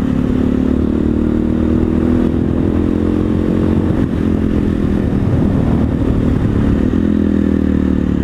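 An SWM SD 650 X motorcycle riding off road, its engine loud and close with a steady droning growl that rises and falls slightly through a corner slide, with faint clatter from the terrain and no speech.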